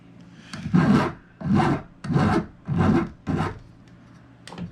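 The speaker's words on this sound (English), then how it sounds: "I'm just going to take the file and hold it down." Hand file rasping against metal held on a bench pin while shaping a jewelry bail, five even back-and-forth strokes with brief pauses between them, close and clear.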